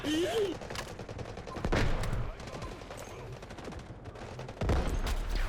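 Gunfire in the mobile first-person shooter Delta Force: Hawk Ops, several loud close shots and bursts spaced across the moment, with a player talking over the game audio.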